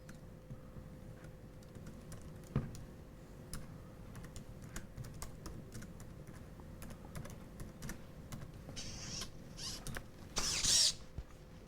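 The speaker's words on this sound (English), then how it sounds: "I'm not going to be able to do full-on regular typing, but you can still hunt and peck here." Hunt-and-peck typing on a computer keyboard with a bionic prosthetic hand: sparse, quiet key clicks at irregular intervals, with faint mechanical creaks and a brief louder burst of clatter near the end, no talking.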